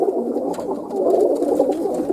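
Steady soft cooing from a kit of young pigeons, a continuous low murmur of overlapping calls close by with no talk.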